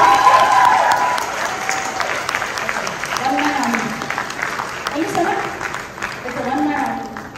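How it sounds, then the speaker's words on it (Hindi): A school crowd at a Hindi Diwas celebration in Dubai claps warmly in sustained applause, swelling and easing in waves, with a few voices mixed in. "इनके लिए जोरदार तालियां"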